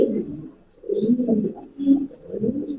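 Domestic Giribaz pigeons coo in low, throaty rolling phrases, several bursts close by with short pauses between, with no talk over them.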